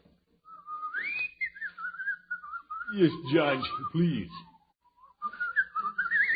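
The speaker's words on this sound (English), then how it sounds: "I can whistle it for you." A person whistles a bright, wavering tune, briefly interrupted by a few spoken words, then the whistled melody resumes.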